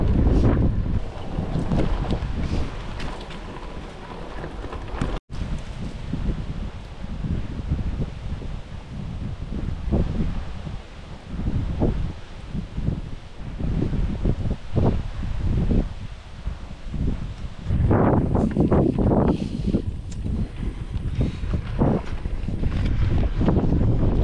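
Steady, heavy wind buffeting the microphone during a bike ride throughout, a continuous roaring rumble with gusty swells and no clear voice.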